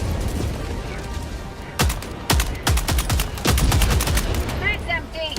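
Loud gunfire from a weapon in the video game Helldivers 2, with rapid bursts of close shots, some single and some in quick automatic runs, over continuous game background noise.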